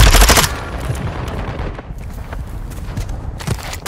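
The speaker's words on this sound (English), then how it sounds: "they're shooting at me" Rapid automatic gunfire from Call of Duty Warzone 2 erupts loudly at the start, then dies down to scattered, more distant shots and rattles over a low ambient rumble.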